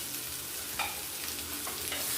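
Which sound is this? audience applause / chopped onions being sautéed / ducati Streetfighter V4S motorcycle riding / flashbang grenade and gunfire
chopped onions being sautéed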